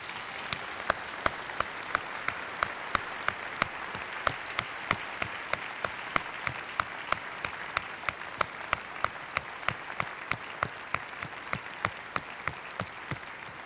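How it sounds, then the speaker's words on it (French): Applause after a conference talk, a steady wash of audience clapping that settles into loud rhythmic clapping in unison, with distinct evenly spaced beats lasting throughout. "Je propose qu'on l'applaudisse encore une fois."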